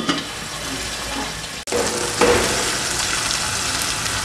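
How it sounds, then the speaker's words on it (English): Onions frying in oil in a covered pan, a continuous close sizzle that cuts off sharply for an instant and then resumes louder and brighter. "Then you should fry your onions until they are golden brown."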